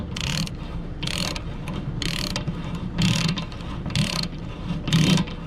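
A ratchet clicks in short bursts as it turns a tapered threaded plug into an RV water heater, five or six evenly spaced rounds of quick metallic ticking, close and loud.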